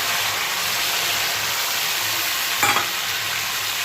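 Spice paste sizzling and being stirred in a hot pan for a Bengali fish curry, a continuous loud frying hiss with a brief scrape of the utensil near the end.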